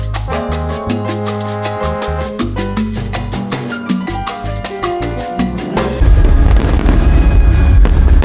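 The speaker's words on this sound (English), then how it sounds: "fireworks explode over the river" Fireworks exploding over the river and Dom Luís I Bridge during a festival in Porto, a dense rumbling barrage of booms and crackles, loud and continuous, arriving after a stretch of melodic music.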